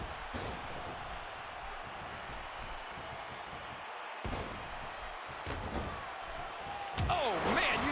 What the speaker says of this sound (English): you take a shot like that, and you feel it for weeks. A face buster.